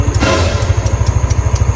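A new motorcycle engine idles nearby with a rapid, even ticking clatter, steady rhythmic pulses close to the listener and no talk over them.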